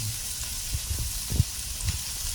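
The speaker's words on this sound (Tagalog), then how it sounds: "ilalagay ko na po ang ating ampalaya. Ayan po, gigisa ko po yung gulay dyan." Bitter melon and eggplant sautéing in a pan, a soft steady sizzle with a few light clinks and stirring knocks close by.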